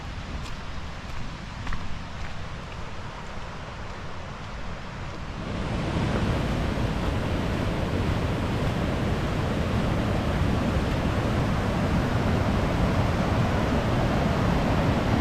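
Janet's Foss waterfall in the Yorkshire Dales, a steady broadband rush of falling water that swells sharply louder midway as it is approached, then roars continuously up close with no talking.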